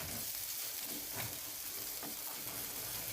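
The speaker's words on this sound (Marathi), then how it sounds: "मीठ आणि हळद टाकून घेऊया. याला परतून घेऊया 2 मिनिटं." Chicken liver sautéing with salt and turmeric over medium heat gives a steady, close hiss of sizzling with a few soft stirring scrapes, no voices.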